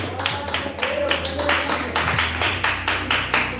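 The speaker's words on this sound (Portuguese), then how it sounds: "Isso, aplaude a Deus." A church congregation claps together in a steady rhythm, roughly three claps a second, loud and close, over a low hum of voices or instruments.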